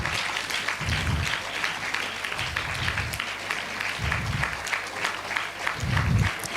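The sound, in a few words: applause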